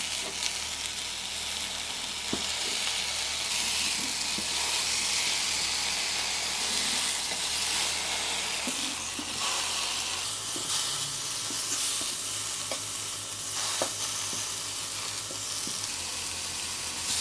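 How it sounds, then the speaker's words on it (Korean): Quartered tofu sizzles steadily in a dry frying pan, a soft continuous hiss with small crackles that shifts slightly as the pieces settle, with no talking. "마른 팬에 두부 한번 올려주세요"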